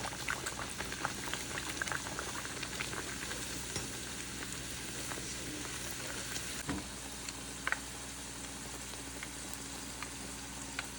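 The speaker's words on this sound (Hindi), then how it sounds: "तेल गरम हो रहा है, तो बस अब पूड़ियाँ बनेंगी" Puris frying in a pan of hot oil for chana puri at home, with a steady dense bubbling sizzle throughout and occasional soft clinks of a utensil.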